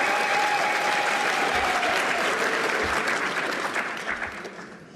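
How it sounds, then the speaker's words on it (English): A crowd at a cabinet announcement event gives a round of applause, dense and loud at first, then thinning and fading over the last second. "Give a round of applause then."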